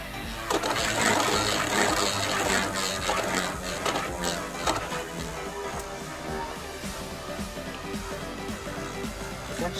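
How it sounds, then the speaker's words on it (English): Hasbro Beyblade Burst Doomcizor top spinning after a launch, a close, rattling whir of plastic scraping and clattering around a stadium, loud at first and slowly easing off. "I'm using a regular Hasbro launcher, so I could kind of have around the same amount of spin as I do when I launch this Beyblade"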